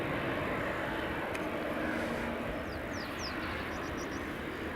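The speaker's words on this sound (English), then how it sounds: "Here's the Swiss C series just coming in." A Swiss Airbus A220 (C Series) airliner coming in to land at Edinburgh Airport on runway 24, a loud, steady broadband engine roar that holds for several seconds, with a few faint birdlike chirps high above it.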